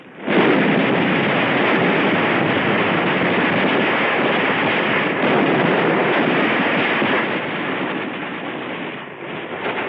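Heavy battle barrage at Tarawa: continuous loud rumbling mortar fire and explosions with gunfire, a dense unbroken roar for the whole stretch, easing slightly near the end, with no talk.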